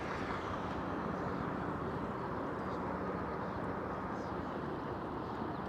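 A steady, broad rumble of a helicopter droning continuously overhead in Toronto, with no clear beginning or end.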